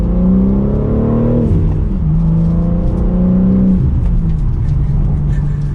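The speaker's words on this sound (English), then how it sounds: "This car sounds so good as well, and you can obviously shut that exhaust off if you want to, but it has a nice healthy grunt to it" A 2022 BMW M3 with an inline six-cylinder engine and a six-speed manual revs and shifts, its exhaust droning loud and close as pitch climbs, drops at each gear change, then rises again.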